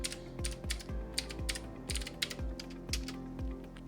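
Typing on a computer keyboard while entering disk partition commands in Windows, a quick irregular run of close, crisp key clicks and taps under quiet room tone, no voices.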